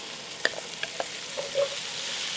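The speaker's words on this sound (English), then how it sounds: "I'm going to saute these for about 5 minutes." Onions sautéing in olive oil, a steady soft sizzle with a few light clicks of a utensil stirring, close and moderately quiet with no talking.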